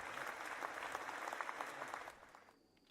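A crowd claps steadily for a couple of seconds during a live Rimworld Odyssey stream, fairly loud and dense, then fades out toward the end.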